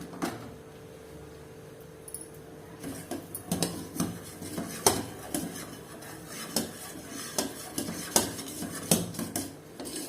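Metal utensil scraping and clinking against a pot of simmering milk in repeated, irregular stirring strokes, close up with no talking.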